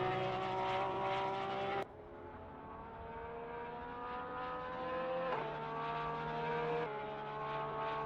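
Onboard roar of a Lamborghini race car, number 77, on track with a Porsche, engine pitch rising through a gear then dropping with sharp shifts, loud and continuous with no talk.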